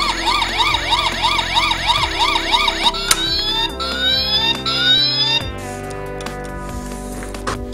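Rescue Bots Griffin Rock firehouse toy headquarters sounding its electronic siren, a rapid wailing warble followed by a sweeping tone, then quieter toy effects, all loud and close with no talking.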